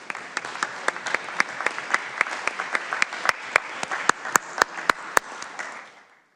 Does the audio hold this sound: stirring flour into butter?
no